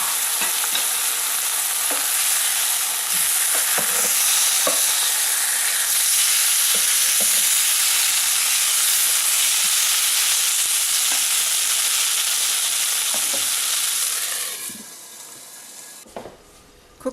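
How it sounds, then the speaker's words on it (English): Meat sizzles and fries steadily in a grill pan, a loud, dense crackle with scattered pops and stirring clicks that holds for about fourteen seconds before fading out. "flip the meat to cook the other side."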